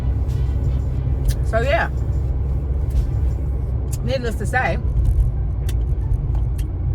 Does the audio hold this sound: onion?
no